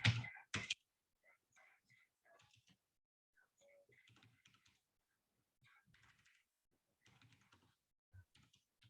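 Typing on a computer keyboard, with quiet, irregular bursts of key clicks that come and go across the clip after a couple of louder knocks at the start.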